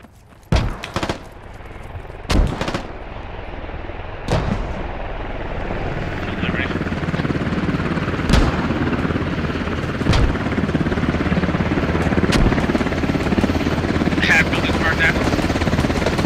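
Heavy gunfire and explosive cannon bursts in the military video game Squad, with a helicopter droning steadily underneath and sharp loud impacts scattered across a busy large-scale battle soundscape.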